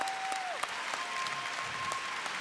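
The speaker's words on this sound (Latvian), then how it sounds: "Aplausu šiem cilvēkiem." Applause from the audience at a music awards ceremony, a steady clapping in the hall that runs alongside a sustained electronic tone near the start and a few louder claps.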